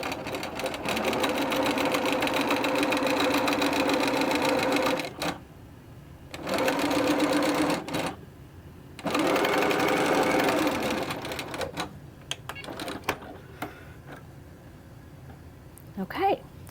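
A sewing machine stitches quilt rows together for a half-square triangle quilt, running in several bursts of steady whirring with brief pauses between, close and fairly loud, followed by lighter handling sounds.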